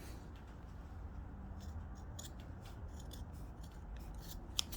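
Scissors cut through trouser fabric during a hand alteration to take in the pants, a few quiet, crisp snips spread over a soft rubbing background, close but faint.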